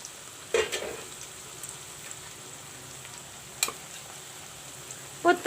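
Onions and bay leaves fry gently in a pan while browning, making a faint, even sizzle with a few sharp clicks of utensils against the pan.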